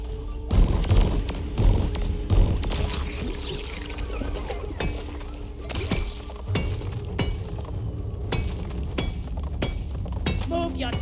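Pickaxes strike mineral deposits in the video game Deep Rock Galactic, producing repeated sharp clinking and crumbling hits of varying loudness mixed with game voice lines.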